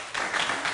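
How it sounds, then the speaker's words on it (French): A short burst of applause from a church congregation, a dense wash of clapping rising quickly and holding steady for under a second. "Applaudissez-le."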